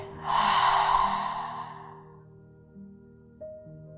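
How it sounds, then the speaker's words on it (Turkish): One deep breath is pushed out through the mouth as a long breathy ah lasting over a second. It fades gradually over soft, sustained ambient music tones. "sonra ağızdan ah sesiyle serbest bırak"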